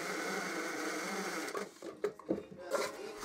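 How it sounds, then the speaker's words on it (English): A drill with a 32mm Forstner bit bores the entrance hole in a poplar birdhouse. A steady whirring hum gives way to uneven clattering and bumps near the end. "and then drilled the hole using a 32mm Forstner bit."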